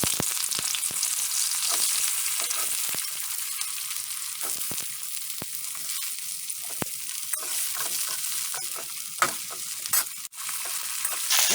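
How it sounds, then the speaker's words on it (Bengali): Onions frying in hot oil in a wok, a loud, dense, hissing sizzle that stays constant, broken by brief crackles and scrapes from stirring. "তেল আমার গরম হয়ে গেছে। আমি প্রথমে পেঁয়াজগুলো দিচ্ছি।"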